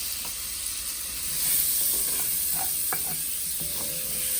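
Onions sautéing with bacon in a pan for country baked beans, a continuous close hiss and sizzle with soft scattered scrapes and clinks of stirring.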